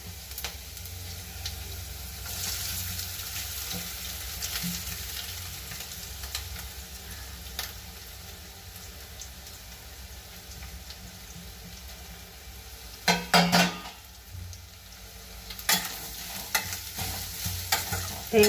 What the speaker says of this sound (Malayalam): തേങ്ങ നന്നായിട്ട് വറുത്തെടുക്കണം.